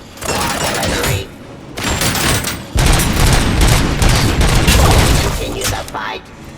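Artillery fire in the shooter Robocop: Rogue City, a loud, continuous barrage of booming blasts and crackling impacts rolling on for several seconds, with a brief lull early on before heavier volleys follow.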